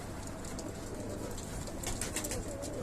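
Pigeons in a fancier's flock coo in a low, continuous murmur over a dense, steady outdoor background, with brief bird-call accents toward the end.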